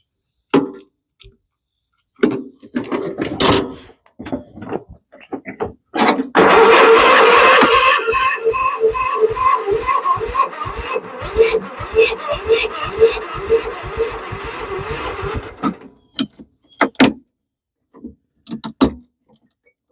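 A John Deere STX38 lawn tractor's Kohler 12.5 HP engine, running off a jumper pack, cranks roughly for about eight seconds, a loud chugging starter rhythm between scattered clicks and knocks before and after.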